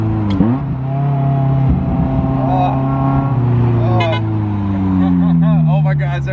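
A straight-piped Ferrari F355 engine revs loud and close, its throaty harmonic drone swelling and easing steadily with small rises in pitch throughout.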